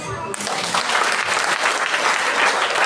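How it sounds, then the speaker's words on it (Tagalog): A church congregation at an anniversary service breaks into loud, dense clapping right after a brief voice, the applause steady and close for the rest of the moment. "Ang pumapayag ay pumalakpak."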